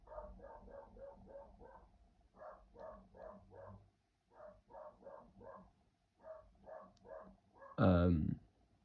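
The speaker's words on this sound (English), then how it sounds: "My dog's barking." A dog that is unwell barks indoors in quick repeated runs of short yaps, in groups separated by brief pauses, ending with one louder, harsher bark.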